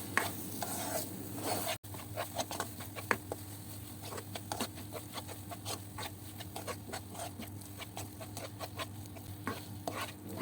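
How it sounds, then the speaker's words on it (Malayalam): Tomato paste and chopped tomato are sautéed in a pan for chicken curry, with a soft, continuous sizzle close by. Frequent scraping stir strokes run throughout, and there is a brief dropout early on. "ഒരു പച്ചമണം മാറുന്നവരെ ഒന്ന് വഴറ്റി കൊടുക്കാം"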